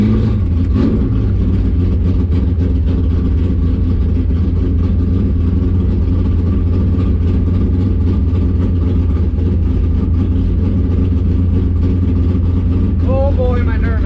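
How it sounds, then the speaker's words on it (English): A 1965 Impala SS drag car sits in the burnout box with its engine running loud and close, a steady heavy rumble and drone that holds for the whole stretch. A voice can be heard over it. "Heading into the burnout box now."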